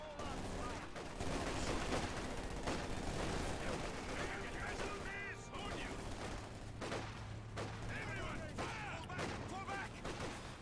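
Dense battlefield gunfire in Company of Heroes 2, sustained bursts from an MG42 machine gun among scattered shots and distant booms, with a voice commentating over the din.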